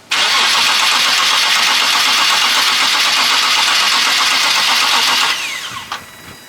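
A supercharged Nissan 370Z engine cranks and starts, a loud sustained rhythmic churn of the starter and engine lasting several seconds before cutting off abruptly, followed by a short clatter.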